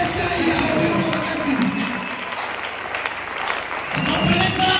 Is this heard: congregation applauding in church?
yes